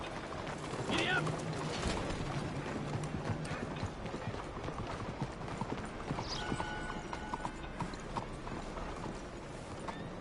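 Horse hooves clip-clop at a quick gallop in the western video game Red Dead Redemption 2, a steady rhythmic beat over outdoor ambience, with a brief whinny and some faint background mechanical clicks.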